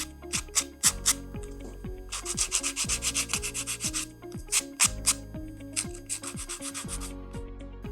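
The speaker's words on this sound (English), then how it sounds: "grab some sandpaper and sand away some of those rough edges" Sandpaper rubbed over the rough edges of wooden blocks in quick, rhythmic back-and-forth strokes, close and steady, with bursts of rapid scratching separated by brief pauses.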